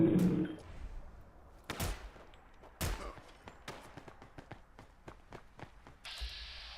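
Gunfire in the video game Fallout London, with several sharp single shots followed by a run of quick, evenly spaced shots, mid-distance and fairly loud, and a short burst of low voices near the start.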